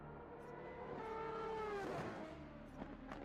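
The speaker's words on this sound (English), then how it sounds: "The downshifting" A racing car in Project Motor Racing downshifts: the engine note sweeps down in pitch and then blips back up, a clean close-up engine sound alone with no talk.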